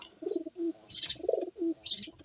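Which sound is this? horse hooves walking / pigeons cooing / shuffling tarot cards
pigeons cooing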